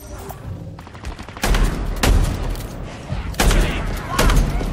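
Gunfire in the video game Halo Infinite, heavy rapid bursts with booming low thumps, loud and close, coming in several volleys after a quieter opening.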